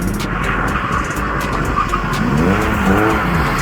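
A Jaguar car drifting and spinning on a track, engine roaring continuously with tires squealing in rising and falling arcs, loud and close throughout.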